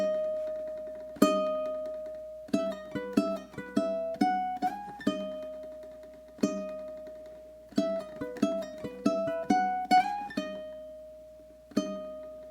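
A ukulele plays a love song straight through, mixing strummed chords with plucked melody notes in a steady flowing rhythm, solo and moderately soft.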